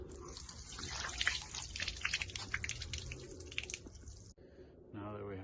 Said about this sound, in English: We also want to drain the gray tank, so we will remove this cap